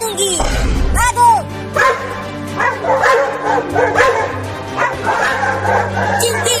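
Cartoon dogs bark and yip repeatedly in a lively, loud sequence, layered over background music and animated character voices talking.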